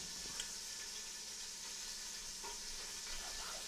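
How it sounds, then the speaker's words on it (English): Sausage chunks browning in a pan for Italian lentil soup, a steady soft sizzle with faint stirring and scraping, fairly quiet and continuous throughout. "I just want it to brown a little bit to add flavor"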